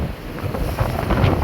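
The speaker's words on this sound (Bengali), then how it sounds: "প্রচুর বাতাস হচ্ছে এবং বড় বড় ঢেউ, সাথে সাথে বৃষ্টিও পড়তেছে" Strong wind buffets the microphone while waves slap and wash against a passenger river launch travelling from Dhaka to Betua in rain, a steady broadband roar with no talk.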